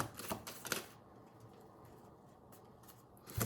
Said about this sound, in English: Cards are shuffling.